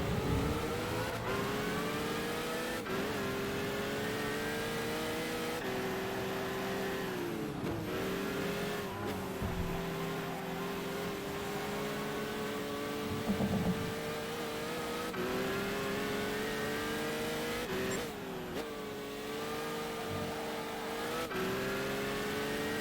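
Race car engine in Gran Turismo 5 during a Le Mans 24 Hours test day, revving loudly and continuously with rising and falling pitch sweeps as it shifts through six gears, no talk over it.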